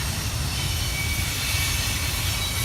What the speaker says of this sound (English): You see the train going by and the highway behind it.